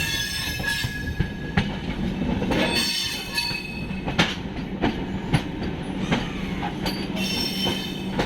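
Kolkata Agra Weekly Express running on rails on the Sealdah main line near Kolkata, a steady loud rumble of wheels with repeated sharp clicks and squeals from the track, close and continuous throughout.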